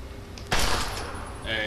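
A single sharp gunshot at a shooting range in Fallout 3 cracks out partway through, followed by a brief ringing tail and a faint high electronic tone.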